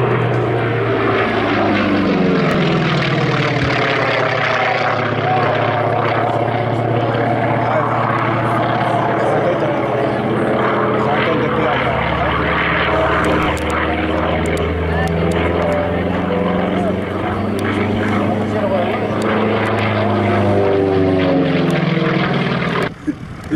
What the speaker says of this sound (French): les moteurs en étoile, il y en a de moins en moins. C'est quand même particulier parce que c'est une sonorité tout à fait spéciale.